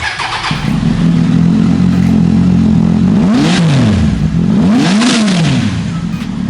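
An inline-three motorcycle with an aftermarket Arrow exhaust idles with a loud, throaty note, then revs sharply twice in quick succession, the pitch rising and falling each time.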